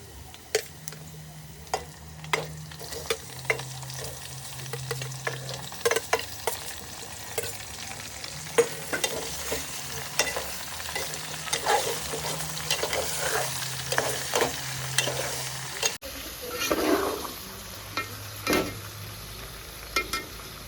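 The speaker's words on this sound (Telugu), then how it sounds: "ఉల్లిగడ్డ బాగా ఫ్రై అయింది చికెన్ వేసుకుంటుండా" Desi country chicken frying with onions in a pan for natu kodi kura, a steady sizzle broken by repeated stirring clatters and scrapes, close and fairly loud, with a low hum underneath and no talking.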